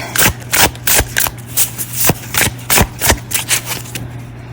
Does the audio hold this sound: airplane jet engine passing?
no